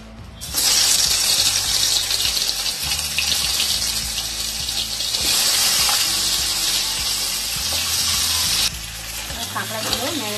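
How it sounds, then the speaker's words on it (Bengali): Marinated crab fries in hot oil for a Bengali spicy crab curry, a dense, loud, continuous sizzle and crackle that starts abruptly and holds steady throughout, with faint clatter near the end. "আমি এই তেলেতে ম্যারিনেট করা কাঁকড়াটা আমি ভেজে নেব।"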